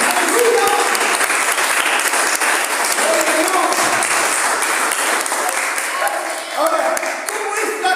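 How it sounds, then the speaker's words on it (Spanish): A Pentecostal church congregation gives loud, sustained applause that fills the room, with voices and shouts rising through the clapping. "Un fuerte aplauso al Señor, a aquellos que aman al Señor."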